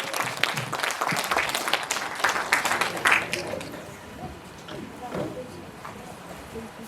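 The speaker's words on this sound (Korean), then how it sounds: "여러분 큰 박수 부탁드리겠습니다." Audience applause at a workshop lecture on Korean unification, a burst of many hands clapping that fades after a few seconds into room murmur and a voice.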